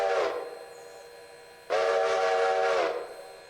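A steam train whistle in the Railroader train simulator game sounds in two blasts: a short tail at the very start, then a longer, loud, steady blast of about a second that fades out. No one speaks.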